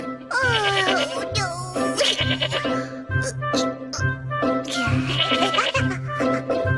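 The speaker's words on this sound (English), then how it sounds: "Goats in the greenhouse. Meh, meh, meh." Goats bleat in repeated wavering, nasal calls, loud and close, several overlapping bursts with short gaps, set over a steady rhythmic low thump.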